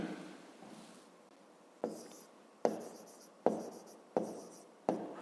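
A pen writes on paper in short bursts of scratchy strokes, each beginning with a sharp onset and fading, repeating about every second, close and quiet with no talk.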